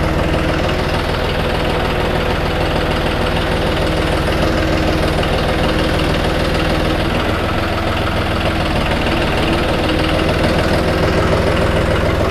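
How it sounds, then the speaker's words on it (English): A tractor engine runs steadily at a low, knocking idle-to-mid throttle, close and continuous throughout while moving a Hakki Pilke Easy 37 firewood processor into place. "let's go hop on the tractor and wheel her in."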